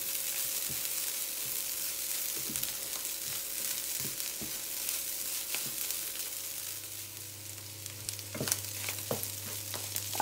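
Curry stirred into a chicken and vegetable samosa filling in a pan: a faint, steady sizzle with light scraping taps from the utensil and a low, even hum underneath.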